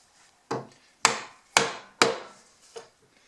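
A chisel is struck into wood to chop a hand-cut mortise for a root vegetable cabinet face frame, four sharp mallet-driven knocks at a steady pace followed by a lighter tap, close and loud with quiet gaps.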